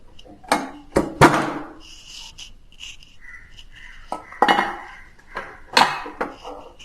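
Metal pot and lid clanks as a pressure cooker is opened in a home kitchen while making chicken corn soup, several sharp clattering knocks spaced irregularly with quieter scraping between, no talking.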